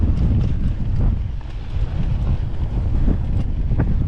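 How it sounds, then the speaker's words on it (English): Wind buffets the microphone on an exposed rocky shelf during a mountain bike ride on Boise's Rock Island Jump Trail, a loud, steady low rumble with gusty surges and no talking. "Wind's picking up"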